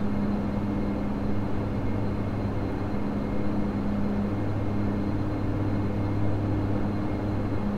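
Steady engine drone of an aircraft approaching to land in Microsoft Flight Simulator X, a constant low hum and broad rush holding level throughout.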